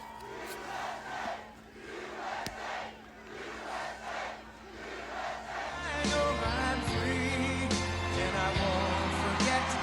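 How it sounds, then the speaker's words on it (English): A large crowd at a political speech roars and chants, with rising cheers and shouting that swell into a louder, sustained din, as music-like tones come in partway through. "let's see what kind of crappy crowd he gathers"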